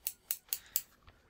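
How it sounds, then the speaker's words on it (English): Small nail scissors snip four times in quick succession, crisp and close, then the sound trails off into near silence. "I'm playing with scissors, everybody. Nail scissors."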